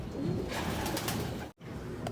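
Pigeons cooing in a loft, soft low throaty coos close by over a dense background of rustling and bird noise, with a brief drop to near silence partway through.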